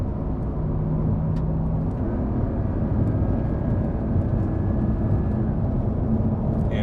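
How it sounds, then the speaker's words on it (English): A 2025 Porsche 911 Carrera 4 GTS T-Hybrid drops from fifth to fourth in manual mode and pulls hard, a steady low engine drone heard from inside the cabin without talk. "I'm gonna put on the manual mode again, come down a couple gears."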